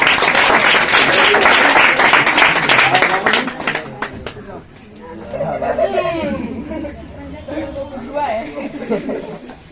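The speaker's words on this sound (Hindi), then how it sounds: "ठीक है, बहुत अच्छा, ताली बजाओ।" An audience at a quiz prize distribution claps loudly for about four seconds amid chatter, then the applause fades and voices talk over the quieter room.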